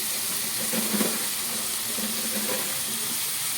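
Chopped tomatoes for a pepper egg gravy fry in a pan with a soft, steady sizzle and hiss, fairly faint, with a few light stirring scrapes and no talk.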